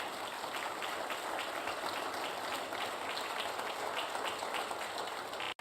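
Church congregation applauding, a dense, even wash of clapping held steady and fairly quiet for several seconds before cutting off.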